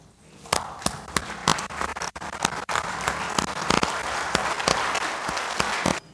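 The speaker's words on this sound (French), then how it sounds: "bien vouloir vous lever et applaudir ces succès" A standing assembly in the National Assembly chamber applauds successes, a dense continuous roar of clapping with sharp louder claps standing out, steady throughout and ending abruptly.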